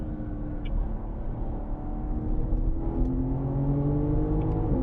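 A BMW M car climbs a hill on the Sonoma Raceway track under steady throttle, its engine droning loud and close with a gradually rising pitch and a constant road rumble.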